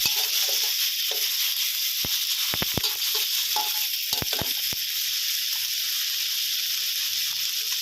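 Onion sizzling in oil in a pan during a mixed vegetable and chicken stir-fry, a steady broad hiss with a few sharp clicks and scrapes of a utensil against the pan.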